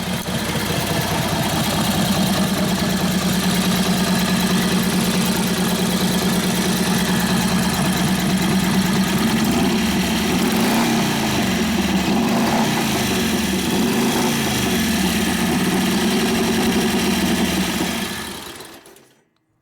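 A 1941 Harley-Davidson WLD 45 flathead motorcycle engine, a 56ci stroker, idles with a steady, rapid putter, close and loud, then sputters and cuts out abruptly into silence as it runs out of fuel.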